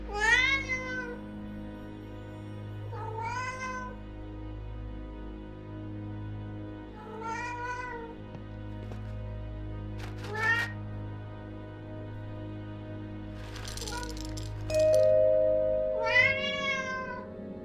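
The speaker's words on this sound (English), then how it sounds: "Meow." A cat meows repeatedly and loudly up close, drawn-out rising and falling cries about every two to three seconds over a steady low hum, with a brief clatter near the end.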